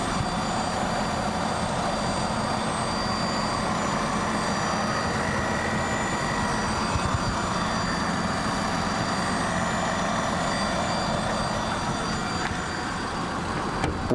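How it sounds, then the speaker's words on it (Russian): A clean used Nissan engine for a 2014 Pathfinder R52 or Teana L33, with 77,000 km on it, runs at a steady idle, a constant even hum and drone throughout with no talking. "Двигатель выглядит аккуратно, чистенький, без всяких потеков, и работает он тоже у нас отлично."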